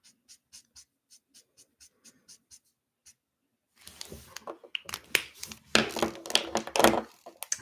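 Ohuhu markers coloring on paper: a run of short, evenly spaced tapping strokes, then busier scratchy back-and-forth scribbling that grows louder and denser, close up with no talking.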